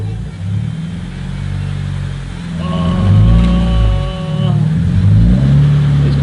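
A Subaru BRZ fitted with a UEL header revs hard while the clutch is slipped and burned, a loud close engine rumble rising and falling, with a steady whine in the middle and voices talking over it.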